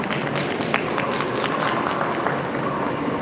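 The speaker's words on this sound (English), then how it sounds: "round of applause for our panel" A room of people applauds a panel of speakers at a live-streamed event, a dense, steady wash of claps at moderate volume with occasional sharper individual hits and faint crowd murmur underneath.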